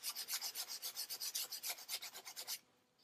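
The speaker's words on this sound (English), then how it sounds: "I just need to sand it down. I've got 600 grit sandpaper here." 600 grit sandpaper rubbed by hand over a wood repair patch on a broken desk: about twenty quick, rhythmic rasping strokes, close and even-paced, stopping abruptly near the end.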